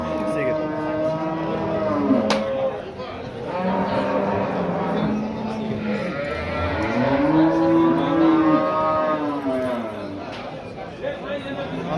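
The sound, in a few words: cow mooing at Samarkand cattle market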